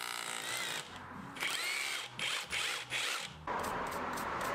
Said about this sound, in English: And then I used the SDS drill to drill the holes to the depth needed.